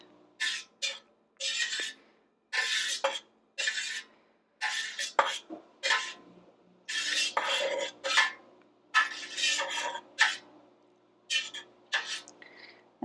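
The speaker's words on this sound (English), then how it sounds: "I'm literally using the longest knife I own to get these cut." A long kitchen knife cuts through a block of homemade cheese curd, giving repeated short scraping, clinking strokes in uneven bursts with brief pauses between them, close and fairly clear.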